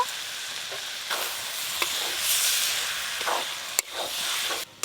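Cabbage and prawns sizzling in a pan just after a little water goes in, a soft steady hiss with occasional brief clinks of a utensil.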